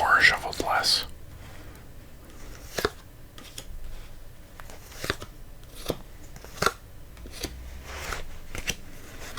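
Playing cards are dealt during a whispered FreeCell game, with soft card snaps and slides spaced a second or two apart at close range. Louder crunching of Hawkins Cheezies snacks comes at the start, and quiet whispering continues throughout.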